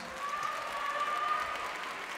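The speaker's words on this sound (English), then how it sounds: "Let's give them another round of applause." Steady applause from a crowd at a high school graduation ceremony, a continuous wash of clapping at moderate volume with no voices standing out.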